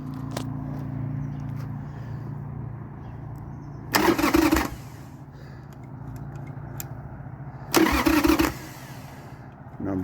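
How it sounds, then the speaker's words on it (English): A carbureted 2003 Harley Sportster XLC on a cold start gets two short bursts of starter cranking and catching, each lasting under a second, over a low steady background hum, nearby and fairly loud. "let's see how the cold start goes with this old carbureted 2003"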